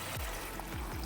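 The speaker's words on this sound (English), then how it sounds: "I'm gonna add some water" Water pours into a pot of fish stew on the stove, a quiet steady trickling stream, close and alone.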